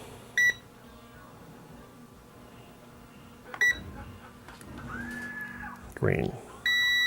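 A multimeter gives short, high electronic continuity beeps at separated moments, with one longer beep near the end, over quiet background noise and a little nearby talk.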